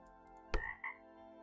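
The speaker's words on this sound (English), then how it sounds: "Frog." A single loud frog croak from the game Delete After Reading, one abrupt burst followed by a shorter second call, standing alone over a quiet ambient hum.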